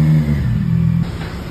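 A CFMOTO NK675 motorcycle on its stock exhaust pipe gives a brief, close engine rev, a low throbbing drone that shifts pitch partway through before settling.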